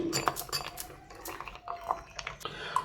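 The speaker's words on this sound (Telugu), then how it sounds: "రాగిపిండి అయితే వేసుకొని ఇప్పుడైతే వాటర్ వేసుకొని కలుపుకుందాం మనము" Ragi flour is mixed with water in a bowl, heard as close, quiet clinks and scrapes of a spoon against the bowl in an uneven rhythm.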